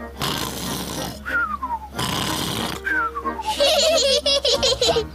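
A cartoon pig's voice imitates loud snoring in two long, rasping breaths, each followed by a descending whistle. Giggling and childlike voices come in near the end.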